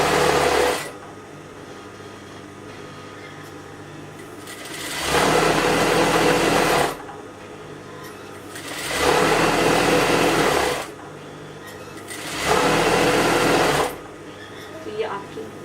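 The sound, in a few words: sewing machine stitching elastic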